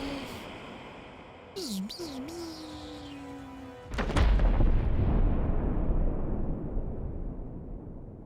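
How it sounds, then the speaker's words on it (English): An explosion in the video game Warframe, during the Call of the Tempestarii quest: rising and falling tonal whooshes give way to a sudden loud blast about halfway through, followed by a sustained low, rumbling roar. "Explosions? Question mark?"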